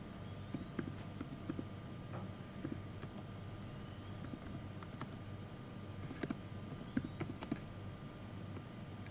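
Steady, quiet clicking of someone typing Excel VBA code on a computer keyboard, with small bursts of louder keystrokes over a low background hum, no talking.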